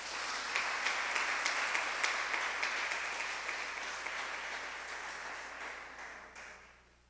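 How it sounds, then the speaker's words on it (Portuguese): Audience applause at a church gathering, a dense wash of many hands clapping at steady loudness that slowly fades toward the end, with no talk over it. "Então aplauda a Jesus"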